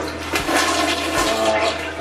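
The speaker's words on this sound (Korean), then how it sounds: "그리고 항상 변기 물내림 체크" A toilet flushes in a small, clean two-room rental apartment during a viewing, with strong rushing and gurgling water that stays loud and steady throughout, close by and without talking.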